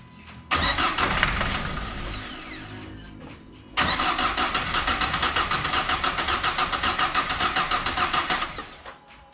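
A car with a swapped engine cranks twice without firing: a short burst of starter whirring, a pause, then a longer rhythmic cranking loop, loud and close, that stops without catching.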